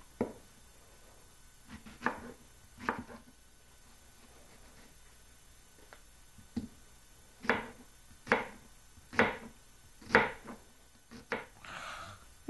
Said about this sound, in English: So I'm just going to cut it in half and then start slicing.